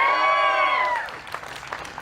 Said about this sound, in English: You can applaud your name.